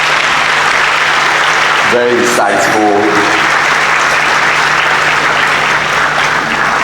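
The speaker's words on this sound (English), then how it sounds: "Ladies and gentlemen, I think Prof deserves another round of applause." Audience applause for a professor after his talk on standards, a loud, dense and continuous sound of many hands clapping throughout, with a brief spoken remark near the middle.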